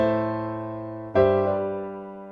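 Piano chord voicing from a song, played on the five chord with a tension and release: a sustained chord, then a second struck chord around the middle that rings out and slowly decays, with no talking.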